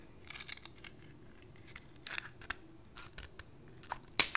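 Loc jewelry wire is trimmed with small cutters, giving light clicks and handling rustles and then one sharp snip near the end, close and fairly quiet.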